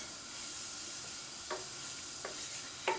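Flour and oil roux being stirred in a pan, with a steady soft sizzle and a few brief scraping strokes of the spoon near the end, close and fairly quiet.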